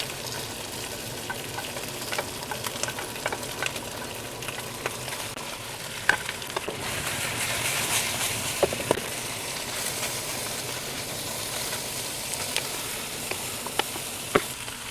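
Chicken fries with onion and carrot in a pan, a constant, fairly quiet sizzle with scattered scraping and stirring taps from a spatula, and no talking.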